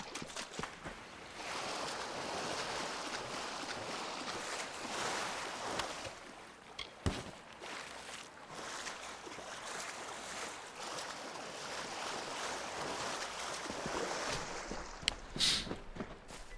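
Steady rushing roar of a waterfall in the video game Kingdoms of Amalur: Re-Reckoning, a dense, continuous wash of water noise that holds at an even loudness throughout, broken only by a few brief clicks.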